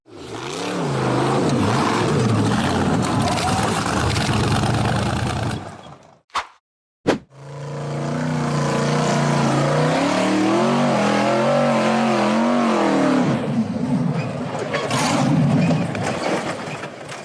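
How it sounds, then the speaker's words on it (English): A black off-road buggy's engine roars and revs hard as it climbs a steep rocky hillside, loud and close, cutting out briefly with a couple of sharp knocks before surging back into sustained high revving. "The black buggy was trying to climb the steep rocky hillside"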